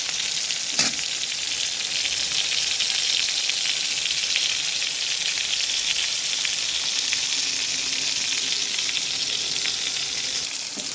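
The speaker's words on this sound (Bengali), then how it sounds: "এই পটলটাকে খুব ভালো করে ভেজে নেব" Pointed gourd (potol) pieces fry in hot oil for a vegetarian dish, giving a steady, loud, close sizzle with fine crackling throughout and one brief sharp clatter near the start, no voices.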